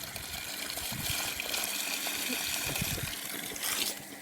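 Water from a newly drilled well gushes steadily out of a pump hose, a continuous loud splashing flow that swells slightly near the end, with a voice briefly over it.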